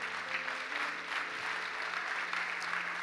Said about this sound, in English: If we are clapping our hands,